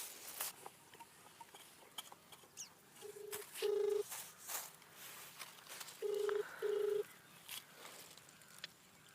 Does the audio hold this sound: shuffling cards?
no